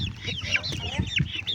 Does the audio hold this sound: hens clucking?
yes